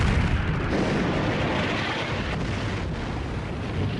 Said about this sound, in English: On the 1st of April 1945, the island of Okinawa is bombarded by the Americans.